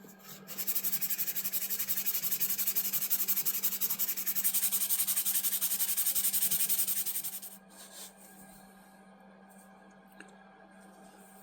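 A rusty Camillus hawkbill knife is rubbed with 1000 grit sandpaper, making a close, rapid, rhythmic scratching that runs steadily for several seconds, then stops, leaving quiet room tone with a small click.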